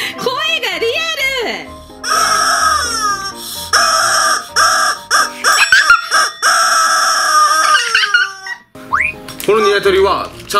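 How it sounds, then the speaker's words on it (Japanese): A toy chicken from a play fried-chicken shop set crows and clucks loudly up close, repeating its call in several bursts with brief pauses. "このニワトリはちゃんと鳴くんだぞ。"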